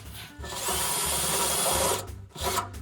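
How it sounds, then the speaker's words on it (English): A drill driving a step bit to enlarge a hole to 7/16 inch in a van's front bracket, a loud continuous grinding whir for about two seconds, then two short bursts. "I'm using a step bit to go from whatever size this is to 7/16."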